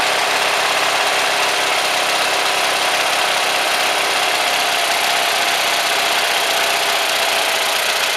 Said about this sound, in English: You can hear it when it starts to die.